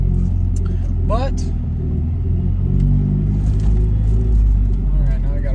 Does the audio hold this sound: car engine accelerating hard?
yes